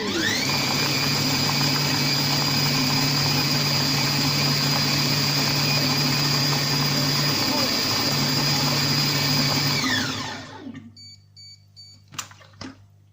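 Compact Cook Pro food processor chopping oranges for marmalade, a loud steady motor whine with rattling chunks that runs for about ten seconds, then spins down and stops, leaving a few faint clicks and knocks.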